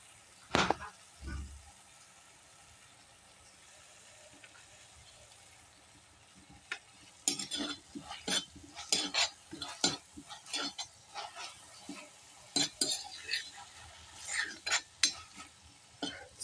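A spoon stirs mushroom curry in a pan over a wood-fired stove, giving soft scraping and clinking strokes in irregular bursts after a quiet start, with a faint low sizzle close by.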